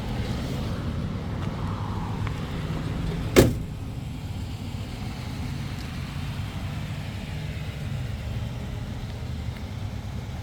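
A 1966 Chevrolet Bel Air wagon idles with a steady, low engine hum as it creeps forward at a car show. A sharp thump or click comes partway through, and there is no talking.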